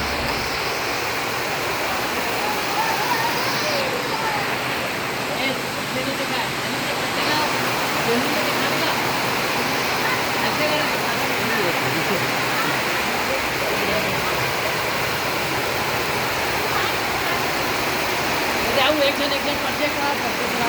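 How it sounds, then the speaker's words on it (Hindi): Heavy rain pours steadily during an outdoor Chhattisgarhi film shoot, a dense, continuous hiss of water that stays loud and even throughout. "अब पानी अक्का जोर से गिरा संगवारी हो"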